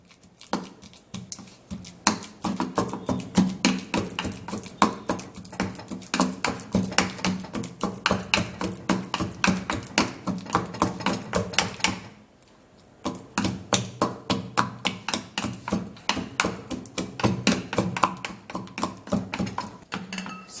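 A banana is pounded smooth for a face mask, giving fast, rhythmic, close-up tapping and thudding that runs steadily with one brief pause midway.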